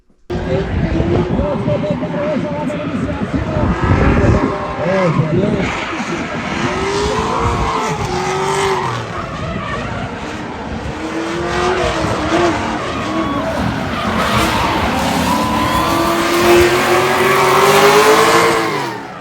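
A drift car makes a qualifying run at a competition. The engine roars and revs loudly, and long tire squeals rise and fall throughout as it slides through corners.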